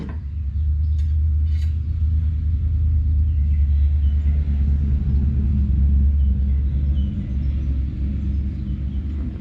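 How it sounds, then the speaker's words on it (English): A bright yellow Pontiac rolls past outdoors, a heavy low rumble of engine and tyres that swells and holds steady for several seconds before easing off slightly. "And there's a very bright yellow Pontiac just rolling past."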